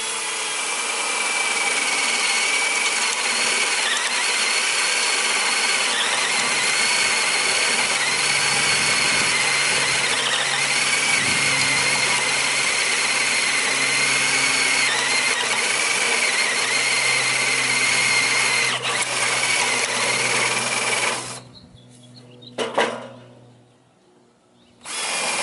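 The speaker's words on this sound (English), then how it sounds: "So we're going to drill some holes with this Black & Decker drill" A cordless Black & Decker 20-volt drill with a fresh lithium battery bores holes with a wood bit, running at a loud, steady whine for about twenty seconds before stopping in a few short bursts.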